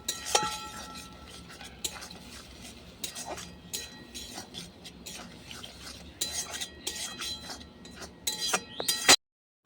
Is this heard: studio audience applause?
no